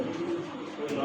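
A male black nun pigeon gives a short, close, low cooing burst.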